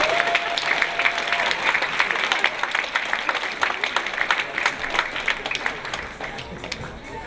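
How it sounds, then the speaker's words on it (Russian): Audience applause at the closing ceremony of the All-Russian School Chemistry Olympiad, a loud, sustained round of many hands clapping in a hall that gradually thins and fades toward the end, with a brief tone early on. "я предлагаю поощрить их старания аплодисментами"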